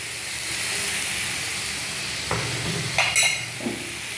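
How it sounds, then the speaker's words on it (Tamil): Bitter gourd sautéed slowly with a ground paste in a pan over low heat, a continuous gentle sizzle with a few brief scraping strokes near the end. "சிம்மிலே வச்சு நல்லா அழகாக மெதுவாக வதக்குறோம்"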